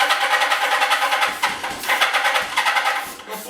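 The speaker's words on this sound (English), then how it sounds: "Crank it one more time." A 1994 Kawasaki Ninja motorcycle under restoration cranking with throttle applied, a loud, close, rhythmic pulsing churn of the engine turning over, with no talking.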